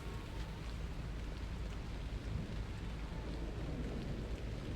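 Rain falls in the video game Hitman: Contracts, a dense, steady hiss of rainfall with a low rumble underneath that runs evenly with no talk over it.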